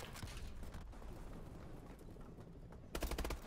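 Rapid automatic gunfire from Call of Duty: Advanced Warfare team deathmatch rattles faintly under game noise, then a louder, tighter burst of quick shots near the end.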